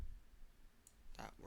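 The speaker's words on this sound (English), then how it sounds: "So I'm gonna left click." A computer mouse gets a single soft left click, a brief faint tick in an otherwise quiet room.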